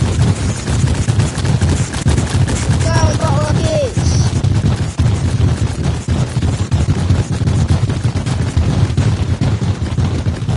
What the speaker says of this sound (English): Go, bottle rockets!